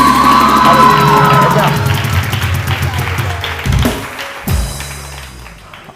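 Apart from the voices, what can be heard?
studio audience applause and cheering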